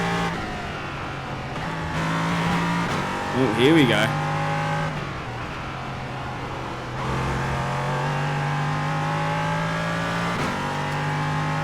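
An LMP3 race car in iRacing at Brands Hatch, its engine wailing steadily through gear changes with a brief tire squeal midway, while someone talks briefly over it.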